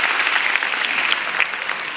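A grand final live audience claps steadily as dense, continuous applause fills the room, broad and fairly loud with no single claps standing out.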